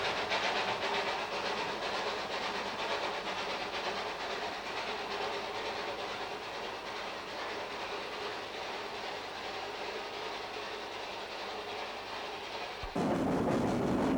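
A Peckett steam locomotive hauls a train on the Puffing Billy Railway near Gembrook, a steady rolling clatter of wheels and hiss heard close and loud throughout, with a brief shift in sound near the end.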